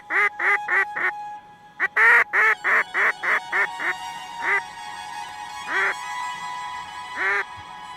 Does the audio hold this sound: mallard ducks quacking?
yes